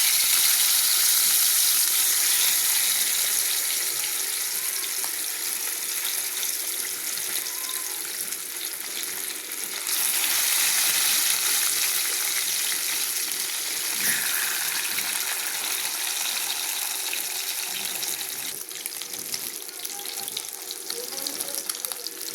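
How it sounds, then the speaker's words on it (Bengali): Katla fish pieces fry in hot oil with a strong, continuous sizzling hiss that swells and eases in waves, close and steady throughout, with no voices. "তেল গরম হয়ে গেছে, মাছগুলো এবার দিয়ে দেবো।"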